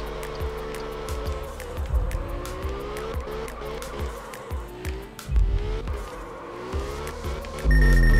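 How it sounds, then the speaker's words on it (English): A car drifts in the Absolute Drift video game, its tires squealing in long sliding streaks over a steady engine hum. Repeated swells of skidding build toward a loud burst at the end. "I am drifting."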